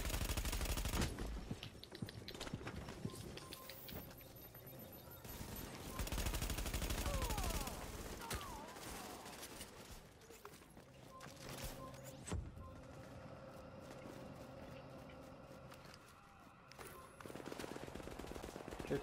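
Video game gunfire from down the street in a GOM Clan match, distant bursts of automatic fire crackling and rattling in sporadic volleys over a steady background for about twenty seconds.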